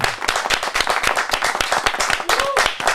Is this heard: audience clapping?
yes